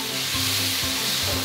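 Bamboo shoots stir-fried in hot oil in a wok, a steady close sizzle with rhythmic scraping strokes of the spatula about every half second, no voices.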